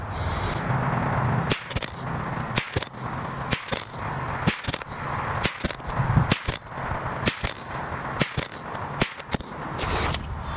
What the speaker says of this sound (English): All right, second 10-shot group.